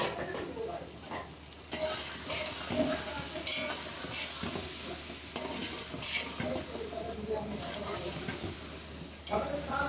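Potatoes dropped into a pan of frying chicken and vegetable rice sizzle steadily, with stirring and occasional clinks of a utensil against the pot, at moderate loudness throughout.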